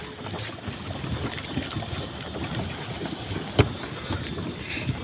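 A speedboat ride out to Coral Island: constant wind rush and engine drone with choppy water slapping against the hull, rough and steady, broken by one sharper bang as the boat hits a wave.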